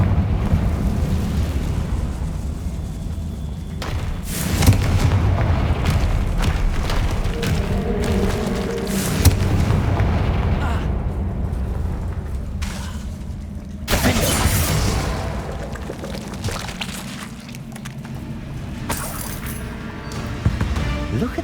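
Repeated booming blasts from the Confringo spell in Hogwarts Legacy, several loud explosions spaced across a sustained rumbling din.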